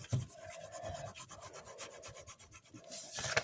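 Paper being cut for a handmade paper flower gives a steady rasping, scraping rhythm of quick repeated strokes, close and moderately loud, with no voices.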